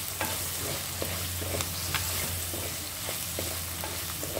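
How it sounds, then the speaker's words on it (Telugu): Capsicum frying in a pot for egg noodles, a close steady sizzle with repeated spatula stirs and scrapes at a regular pace, no voices. "క్యాప్సికం వేసాను ఫ్రైలో పెట్టాను"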